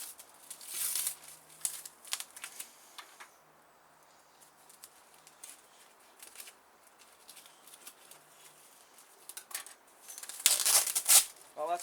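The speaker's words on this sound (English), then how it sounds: "we'll start by doing that, by ripping the paper." Parcel paper being ripped by hand off a boxed Bachmann Class 411 EMU model train, with a loud burst of sharp tearing near the end after quieter rustling and handling noises.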